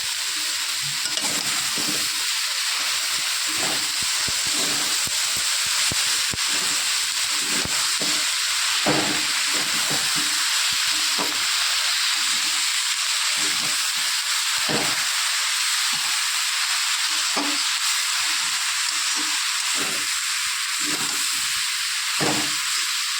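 Brinjal frying in oil in a pan as chopped fenugreek leaves go in, a steady loud sizzle and hiss throughout, broken by repeated soft stirring scrapes and small crackles, with no talking.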